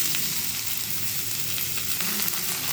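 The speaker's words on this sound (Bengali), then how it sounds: "তো তেলে আমি প্রথমে রাঁধুনি ফোড়ন দিয়ে দিচ্ছি আর তেজপাতা দিয়ে দিচ্ছি আদা। এবার এতে লাউগুলোকে দিয়ে দিচ্ছি" Bottle gourd pieces fry in oil with radhuni seeds, bay leaf and ginger, making a dense, continuous, close hiss of sizzling with faint clatter underneath.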